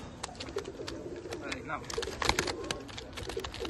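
Pigeons in a home loft in Bendel, Chinsurah coo and flutter softly at close range, with short chirps and rustling scattered throughout while someone talks over them.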